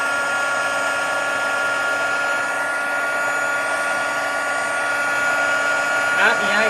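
A heat tool blows steadily and loudly while melting embossing powder on an Easter lily card, a constant whirring hum holding throughout with no pauses.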